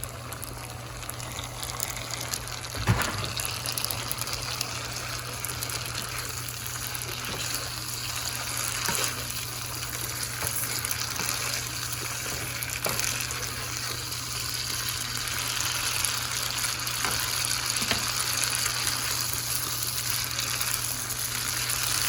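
Pasta fries in a pan with a steady crackling hiss, faint and continuous, with a soft clunk near the start.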